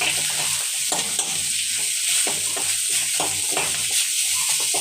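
Fennel seeds and curry leaves sizzle in hot oil for a Jaffna-style fish curry, a loud continuous crackling fry close up with light stirring scrapes throughout.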